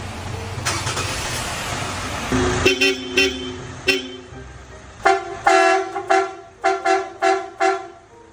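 A Marco Xtreme Blast air horn fitted to a truck blares loudly, first a long sustained blast under engine noise, then a string of short rhythmic honks in quick bursts, close and piercing.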